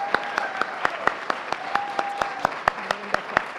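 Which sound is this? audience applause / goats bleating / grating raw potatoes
audience applause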